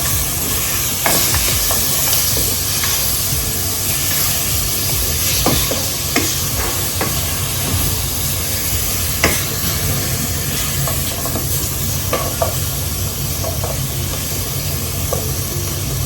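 Lean pork sizzles and hisses steadily as it renders in its own fat in a pan, with occasional scraping and stirring clicks from a utensil, close up and without speech.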